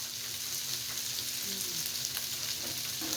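Meat browns in hot oil in a pan as part of making spaghetti, giving a steady, close, crackling sizzle that runs unbroken throughout, with no voices.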